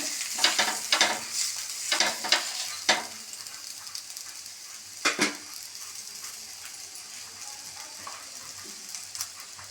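Akki rotti, a rice-flour flatbread, cooking in a hot pan and flipped to its second side, with a steady sizzle and a few close, short scraping and clattering bursts near the start and midway.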